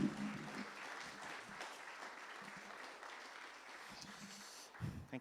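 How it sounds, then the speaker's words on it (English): A Sunday worship congregation gives a guest speaker one more round of applause, a soft, fairly distant wash of clapping that stays even throughout, with a few brief low thumps near the start and end. "Could you give Dr. Graves one more round of applause?"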